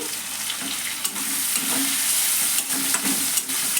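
Sliced large onion frying in hot oil, a steady continuous sizzle with faint stirring scrapes and light clicks throughout, fairly close and loud, with no talking.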